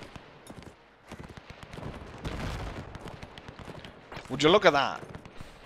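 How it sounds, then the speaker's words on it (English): Distant, rapid crackling bursts of gunfire and explosions rumble in a WW1 strategy game scene, Between Empires, with someone speaking briefly over them. "Explosions going off in the back."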